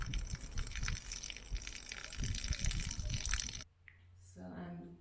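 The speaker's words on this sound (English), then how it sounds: "then I'm going to replenish it with fresh water to keep the leaching process going" Water gushes steadily as it is poured off a bowl of acorns soaking to leach them, a continuous close splashing that cuts off abruptly, leaving a quieter trickle and faint murmur at the end.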